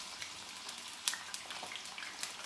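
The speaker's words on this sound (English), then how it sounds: "oh, that lovely sizzling sound" Homemade French fries, dropped from water into hot oil, sizzle in a pan. A faint, steady hiss carries scattered small crackles and pops, with no voices.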